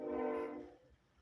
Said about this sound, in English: pardon the train in the background, I stay by a train